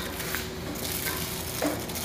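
Fish roasting in its own oil in a pan: a steady low sizzle that carries on throughout, with a few faint clicks and scrapes against the pan.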